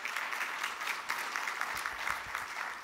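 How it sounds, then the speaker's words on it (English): A crowd at Stanford applauds steadily, dense clapping holding at an even level throughout with no voices over it. "a round of applause"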